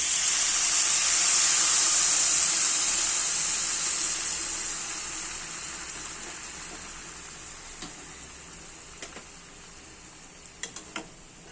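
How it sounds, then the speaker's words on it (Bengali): Hot water poured into mixed rice for kanika sets off a loud hissing sizzle that gradually fades over about eleven seconds, with a few soft clinks and stirring taps near the end. "এবারে এর মধ্যে দিয়ে দিচ্ছি গরম জল।"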